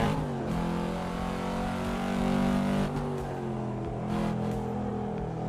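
A Volvo S60R sedan engine in Assetto Corsa revs hard under full throttle, a steady rising drone that climbs in pitch, dips at a gear change near three seconds, then pulls again, close and loud.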